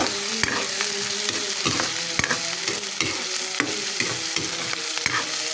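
Onion with garlic and ginger sautéing in a hot pan for octopus and squid adobo, a steady close sizzle broken by repeated scraping stirs at a loose rhythm, no voices.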